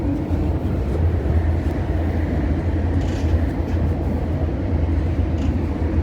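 An MTR Airport Express A-Train in Hong Kong heard from on board, with a steady, loud low rumble and hum of the train running along the track, continuous throughout with no talk.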